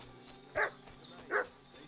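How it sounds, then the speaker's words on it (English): A dog barks twice in the game Kingdom Come: Deliverance 2, two short, fairly loud yelps about three-quarters of a second apart over faint ambient game sound. "What's that dog making such a fuss about?"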